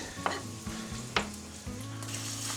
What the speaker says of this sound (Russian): Как вы видите, у нас сосиски румянятся вместе с луком.